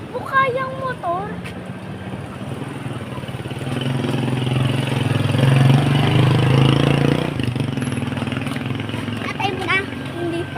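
A motorcycle engine rumbles under wind noise, building from an idle to a louder steady drone midway before easing off, while people talk excitedly over it.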